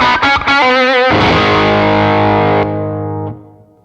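An electric guitar run through an overdrive pedal into a cranked 5F6-style amp, loud and distorted: a few quick picked notes, then a long sustained chord ringing out and fading near the end.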